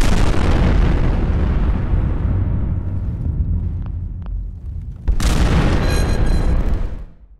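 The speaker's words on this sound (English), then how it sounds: "So all the explosions in there." Explosions in the video game Fallout 4 roar loud and close, a long rumbling blast that fades, then a second sharp burst with crackling debris, with no talk.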